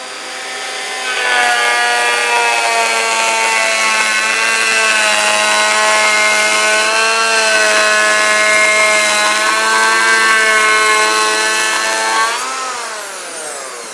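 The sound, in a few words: Festool EHL 65 EQ electric planer planing wood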